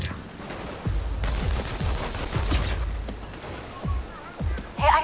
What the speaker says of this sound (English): Hey, I heard gunfire.